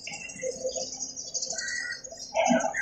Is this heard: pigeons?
yes